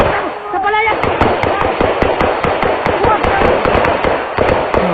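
Gunfire breaks out in actual footage of an armed clash involving soldiers and police, with rapid, sharp cracks repeating in uneven bursts throughout and a voice briefly heard at the start.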